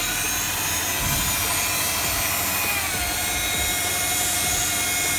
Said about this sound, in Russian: Нужно просто услышать, что у машинки полировальный мотор начинает напрягаться